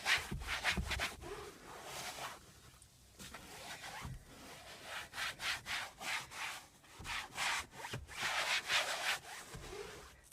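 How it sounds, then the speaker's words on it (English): A cloth wipes grease off a surface at close range in a series of rhythmic rubbing strokes, each a few seconds long, with short pauses between. "Just wipe all that off. And now we'll see if it gets rid of that grease."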